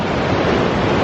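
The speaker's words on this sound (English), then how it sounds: "Look at all that water coming down." Creek water rushes down hard at Bridge Creek near the trailhead toward Bridge Lake in Montana, a loud, steady broadband roar with no letup.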